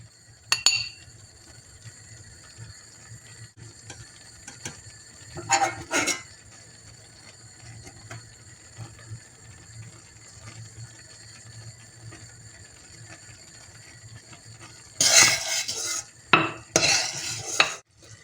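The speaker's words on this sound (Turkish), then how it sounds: "bir yemek kaşığı limon suyu koyuyorum içerisine ve de karıştırarak pişirmeye devam ediyorum" A spoon stirs strawberry marmalade cooking with lemon juice in a pot, giving scattered metallic clinks and scrapes in short bursts over a faint, steady background of cooking noise.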